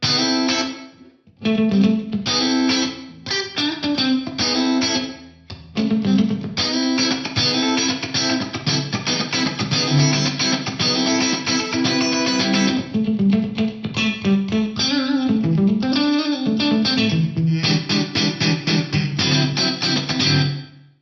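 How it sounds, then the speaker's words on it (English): Clean, funky electric guitar runs through a Kurzweil Rumour room reverb with compression, loud and continuous with choppy rhythmic chords and a short spacious tail, no voices. "This is the Room plus compression."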